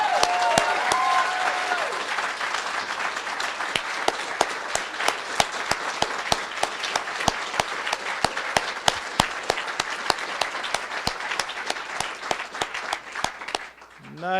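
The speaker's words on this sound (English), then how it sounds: "how about another round of applause for everybody?" An audience claps for graduating social work students at a university master's hooding ceremony. The applause is sustained and dense, with distinct individual claps, and stops abruptly near the end.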